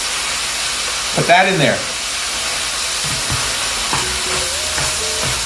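Onions and garlic sizzle in a pot for chili, a steady hissing wash beneath a brief spoken phrase, with a few light knocks of a utensil against the pot.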